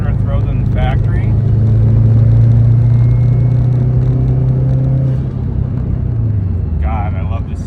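Engine of a 2.5 turbo swapped Subaru hillclimb car breathing through a Cobb exhaust, a steady loud low rumble that swells slightly then settles, with voices talking briefly at the start and end.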